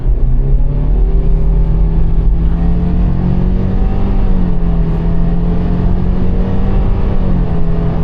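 A 2025 Subaru Forester Sport accelerates hard from a standstill toward 100 km/h, its engine droning steadily and loudly from inside the cabin with a rising, continuous hum.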